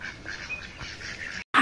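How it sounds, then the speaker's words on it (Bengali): Domestic ducks quacking after being chased from a quiet resting spot outdoors: faint, rough calls under low background noise, followed by one louder, close honking quack at the end. "হাঁসগুলো নিরিবিলি বসা ছিল, আমি একটু লড়ান দিয়ে দিলাম"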